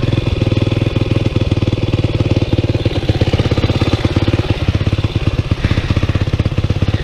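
A Honda NX motorcycle engine runs steadily up close, a fast, even stream of low mechanical pulses with a constant clattering beat and no voices.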